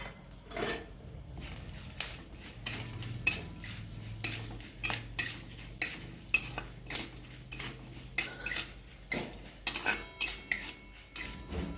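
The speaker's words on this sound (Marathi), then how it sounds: "त्याच्यामध्ये आपण लवंग टाकून घेणार आहोत त्या भाजून घेणार आहोत" Cloves roast in oil in a pan, stirred with a spoon that knocks and scrapes against the metal in a steady run of close clinks over a faint low sizzle.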